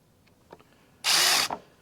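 A power drill driving screws into pre-drilled wooden batten boards gives one short, loud whirring burst of about half a second after a few faint clicks, then stops abruptly.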